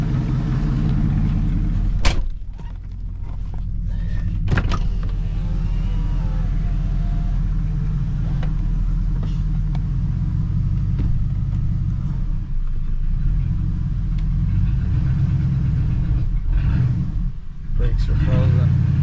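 An old cabover truck engine runs after being started, a steady low rumble throughout with a few sharp knocks near the start, while people talk over it.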